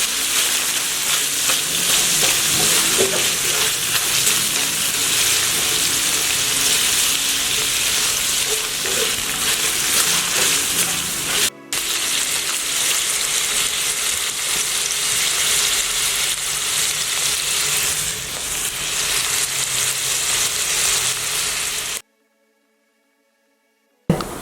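Boiled, lightly salted chicken frying in hot oil in a pan, a loud, steady crackling sizzle that runs continuously close up before cutting off near the end.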